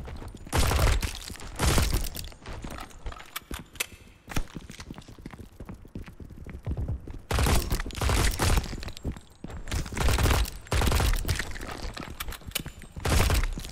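Bursts of gunfire from the rat-swarm survival game MILO, clustered volleys of cracking shots separated by quieter gaps, fairly loud and repeating in waves.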